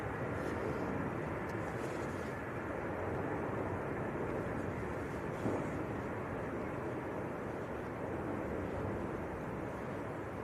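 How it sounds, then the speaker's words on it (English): A TUI passenger jet bound for Lanzarote taking off from Manchester Airport in windy weather: a constant broad roar that holds steady throughout, blended with wind noise and with no clear rise or fade. "That was Tui to Lanzarote that we just got airborne."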